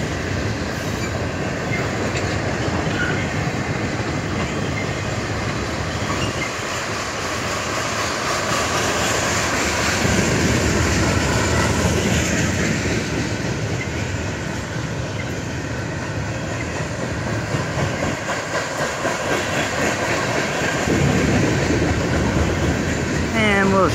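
A freight train carrying tank cars rolls past close by, a loud continuous rumble of wheels and cars with faint squeals and rhythmic clatter, steady throughout with no talking over it.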